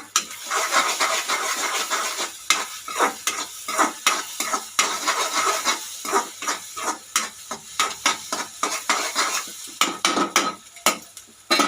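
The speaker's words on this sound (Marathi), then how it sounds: "अंड पण एकदम भुर्जीला करतो तसं एकदम स्मॅश करून घ्यायचं." An egg being smashed and stirred in a hot frying pan for egg fried rice: steady close sizzling under repeated scraping strokes of a utensil against the pan in a quick, uneven rhythm.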